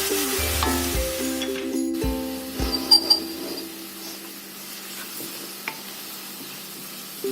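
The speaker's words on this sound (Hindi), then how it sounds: "गोल्डन ब्राउन तक इसको फ्राई कर लेते हैं, भून लेते हैं अच्छे से" Onions frying in a pan until golden brown for biryani give off a steady sizzle, with a few stirring scrapes and clinks near the start and a quieter hiss afterward; nobody speaks.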